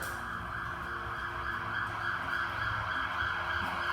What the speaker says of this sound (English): Big sirens in the big booming metropolis of Wilmington, Ohio.